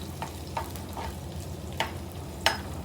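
Small chopped coconut pieces fry in a hot pan for a Kerala-style bitter gourd stir-fry, with a steady soft sizzle broken by several sharp spatula scrapes and clinks as they are stirred.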